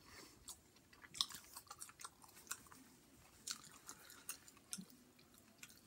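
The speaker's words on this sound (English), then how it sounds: "I'm gonna take this pizza and just try a little bit, see what it tastes like with the garlic" Close, wet chewing and crunching of a bite of Papa John's extra large original crust cheese pizza dipped in garlic sauce, a series of quiet, irregular chomps with no talking.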